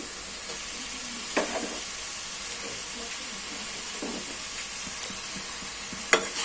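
Tomato pieces and green chillies fry in a pan, giving a soft, steady sizzle with a few sharp spoon-stirring clatters scattered through it.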